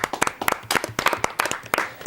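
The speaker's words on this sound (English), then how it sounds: "Everyone give Ben a round of applause." An audience claps for a guest musician at a radio show, a short burst of sparse, separate claps from what sounds like a small crowd, near and fairly loud.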